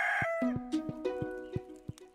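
Chicken clucking in the farming video game Stardew Valley, a short run of rhythmic clucks with a drawn-out opening cackle, clear and close with no voices.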